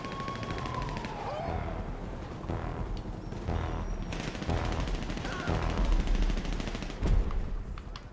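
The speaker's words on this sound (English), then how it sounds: "Now I got somebody else shooting at me." Gunfire in the video game GTA Online, dense bursts of shots and rattling automatic fire in a busy city fight, loud and continuous with one heavier blast near the end.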